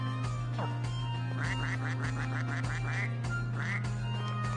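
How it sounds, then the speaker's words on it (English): A cartoonish quacking duck effect from the Suikoden video game, a quick run of about nine bright quacks followed by a lone quack, heard clearly over a steady low game hum. "I love the quacking sound effect too"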